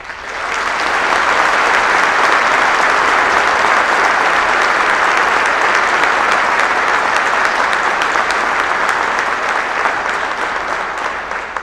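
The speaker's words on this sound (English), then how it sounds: "Please give these guys a round of applause." Sustained, loud audience applause at a Wilmington, Delaware fire academy graduation ceremony, rising within the first second and holding steady as a dense, continuous wash of clapping throughout.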